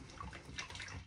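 Water being poured while preparing mango mochi, a close, steady splashing and trickling stream lasting about a second, with no talk over it.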